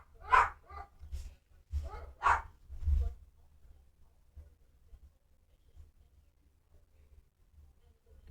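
A dog barks in a quick series of about five sharp, fairly close barks in the first three seconds, followed by quiet low rumbling and near silence.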